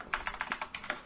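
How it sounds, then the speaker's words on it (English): Rapid keystrokes on a new computer keyboard, close and clear, a quick uneven run of light clicks over about a second with no voices. "I got a new keyboard and I gotta get used to typing on this keyboard"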